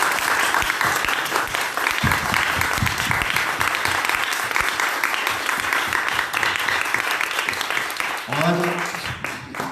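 A seminar audience claps enthusiastically, a dense, sustained wash of applause from many hands that carries on for several seconds, with a voice briefly heard near the end.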